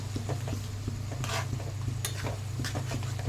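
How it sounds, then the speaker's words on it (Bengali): Grated paneer is stirred into a simmering yardlong bean dish in a pan, with a spatula scraping and clinking in intermittent strokes over a constant low sizzle, close and with no voices. "দিয়ে দেবো গ্রেট করা পনিরটা দিয়ে ভালো করে মিশিয়ে নেব"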